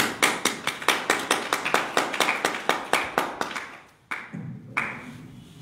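Audience at a Hindi religious discourse gathering clapping in a rhythmic, steady beat, loud and close, with the claps thinning out toward the end.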